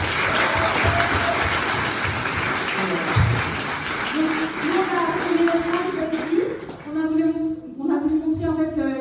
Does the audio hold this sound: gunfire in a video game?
no